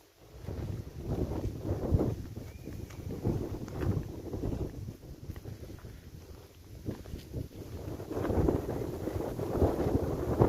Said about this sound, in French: Ah là là, le vent.